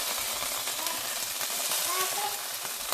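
Homemade turkey breakfast sausage sizzles steadily in a frying pan as it is flipped, a close, continuous crackling hiss with faint scraping and a quiet voice in the background.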